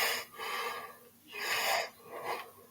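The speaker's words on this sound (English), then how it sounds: "the breathing's coming in heavy" Heavy, close breathing straight into a microphone during a Phantom Menace watch-along: three long, loud breaths in an uneven rhythm, with no talking.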